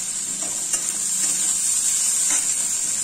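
Chopped onions with tomato fry in a hot pan, a bright continuous sizzle with a few soft scrapes of a spatula stirring them, close and alone with no voices.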